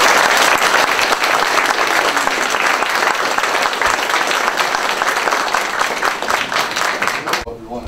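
Audience applause at a Dawson County, Georgia tax commissioner candidate forum, a loud, continuous round of clapping from the crowd that fades slightly near the end.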